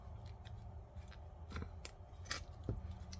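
A zipper being pulled apart during installation gives a few small, sharp clicks up close, quiet and alone with no talking.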